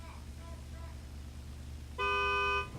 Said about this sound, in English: Alright, there's his horn.